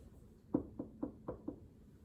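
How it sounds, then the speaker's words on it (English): Five soft knocks on a door, evenly spaced over about a second, quiet and close in a still room with no talking. "there was a soft knock on the door"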